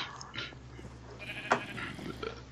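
A sheep in the Minecraft video game bleats in a few short nasal calls, with game background noise underneath and no talk.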